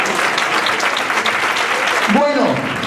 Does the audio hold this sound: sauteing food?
no